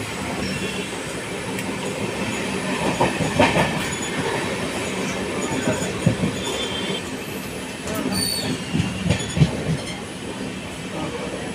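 A train pulls into Tripura station, its wheels squealing and carriages clattering with rhythmic clicks and thumps, loud and close, rising and falling as it slows.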